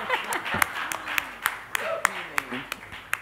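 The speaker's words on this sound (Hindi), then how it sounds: "तालियां, बहुत अच्छा था ये" Sparse, distinct claps ring out at an awards show event amid people talking over them, several sharp individual hand claps spaced irregularly rather than a full crowd ovation.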